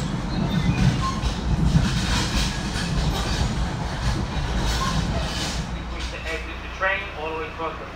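A train moving along railway tracks, with a steady rumbling roll and a rattling clatter throughout, and some faint voices and brief squeals near the end.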